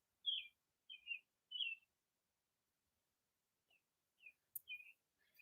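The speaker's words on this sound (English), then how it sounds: "The birds are singing." Early-morning birds singing around 5:30 a.m., a few thin high chirps in short bursts, faint and distant, separated by quiet gaps.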